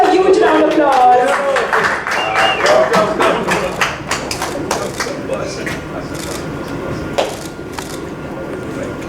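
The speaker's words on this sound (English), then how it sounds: "Can we have a huge round of applause?" Audience at a song launch event claps loudly at first, the applause thinning into scattered individual claps and taps as it fades.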